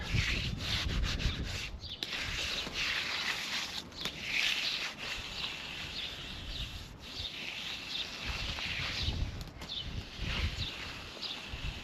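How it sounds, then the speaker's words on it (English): An edging trowel scrapes and rubs along the edge of a freshly poured concrete ramp, giving a continuous, close gritty rasp in uneven back-and-forth strokes, heard alone with no talking. "I need to get the edging trowel on it also."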